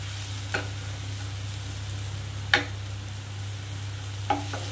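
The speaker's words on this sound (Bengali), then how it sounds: "গ্যাসটাকে বাড়িয়ে 5 মিনিট এইভাবে ভেজে নিলাম" Bottle gourd frying in a pan over a gas flame, a low steady sizzle under a constant burner hum, with three brief scraping stirs spaced a couple of seconds apart.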